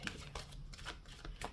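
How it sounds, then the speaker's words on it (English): Oracle cards are shuffled by hand in a quick, soft series of papery riffles and taps, several brief bursts close to the microphone in an otherwise quiet room. "Let's do one more shuffle. I'll give a good shuffle here."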